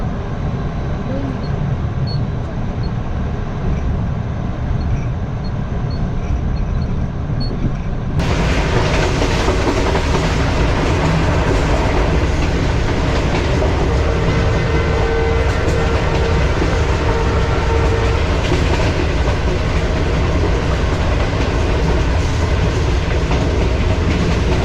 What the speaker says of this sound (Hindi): लाला मूसा जंक्शन सर सैयद एक्सप्रेस ने स्किप कर दिया है, यहाँ पे स्टॉप नहीं है इसका।